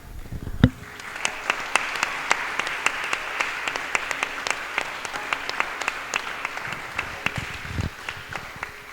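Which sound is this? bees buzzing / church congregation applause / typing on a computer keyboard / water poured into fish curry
church congregation applause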